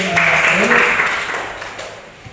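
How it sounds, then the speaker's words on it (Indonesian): Applause from an audience at a classroom-style presentation, a dense wash of clapping that starts strong and gradually thins out, with some talking mixed in at the start. "Kita berikan tepuk tangan dulu"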